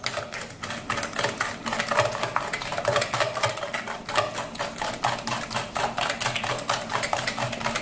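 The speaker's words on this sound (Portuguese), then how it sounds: "eu preciso misturar bem esses ovos com açúcar" Eggs and sugar beaten in a bowl for a cake batter, the whisk clicking rapidly and steadily against the bowl's sides, close and continuous with no talking.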